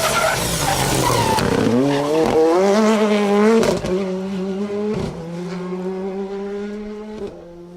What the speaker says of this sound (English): ly you will see David Wright, Paula Swinscoe just touching the rev limiter